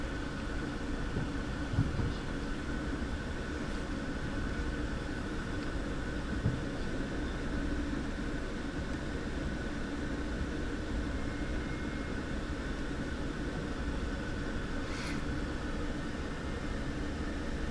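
Amtrak Empire Builder train rolling out of Whitefish, Montana, heard from on board as a steady, even rumble and hum of wheels and cabin noise, continuous and moderately loud with no speech.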